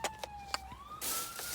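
A police-style siren wails on New Year's, its rising and falling tone carrying from some distance, joined by a broader noisy wash partway through.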